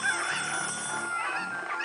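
Cucco chickens from the Ocarina of Time video game squawk and cluck in bursts over a steady bed of busy game audio, loud and close throughout.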